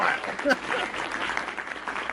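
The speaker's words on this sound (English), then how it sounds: "Wow, extended applause" Steady, moderately loud applause from a live podcast audience fills the moment, with a voice briefly heard over it.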